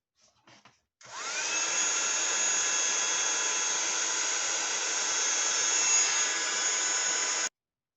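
A heat gun melting embossing powder starts abruptly after a few faint clicks, then runs as a loud, steady, high-pitched blowing whine for about six seconds before cutting off sharply.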